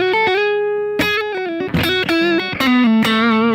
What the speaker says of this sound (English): Super light overdrive.